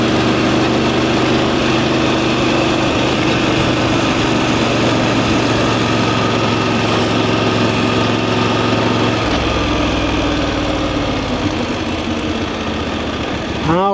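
A VOGE DSX 900 motorcycle engine runs steadily with the throttle let off, a loud, close, even drone that shifts lower partway through.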